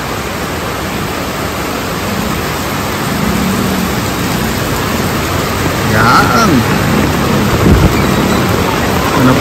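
Steady, dense rain noise fills the whole stretch, with a brief voice breaking through near the middle.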